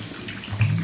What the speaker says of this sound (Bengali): এবার আমি এই সবজিগুলোর মধ্যে জল দিয়ে দিচ্ছি।